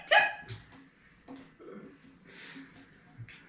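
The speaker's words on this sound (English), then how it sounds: "the dog's one of those Yorkshire Terriers. Those yippy dogs." A Yorkshire Terrier gives a few sharp, yippy barks, the loudest right at the start and a couple more fainter ones spaced through the short stretch, against a quiet background.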